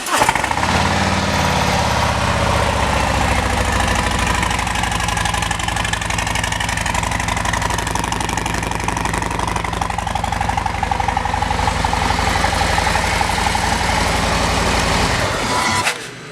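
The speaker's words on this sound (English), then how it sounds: "Previous owner installed an S&S exhaust. Let's see how that sounds." A 2018 Harley-Davidson CVO Street Glide with an aftermarket S&S exhaust idles loud and close, a deep, steady, loping rumble holding even for about fifteen seconds before cutting off abruptly.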